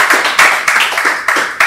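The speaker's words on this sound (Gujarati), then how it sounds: "એક વખત જોરદાર તાળીઓ" Audience applause for a guest at a Women's Day stage event, a burst of close, loud clapping with uneven rhythmic surges and no talking.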